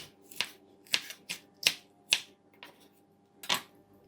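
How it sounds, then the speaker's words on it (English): A knife chopping chili on a cutting board while preparing stir-fried okra: a series of about seven sharp, close cuts in an uneven rhythm with short pauses between them. "Now we're gonna cut the chili."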